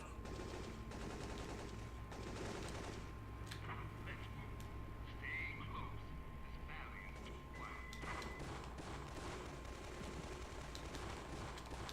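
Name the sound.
heavy sniper fire in video game Syphon Filter 3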